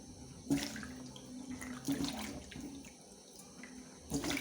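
Tap water runs over hibiscus (zobo) leaves being washed in a sink, a steady close splashing with a few louder sloshes as the leaves are handled.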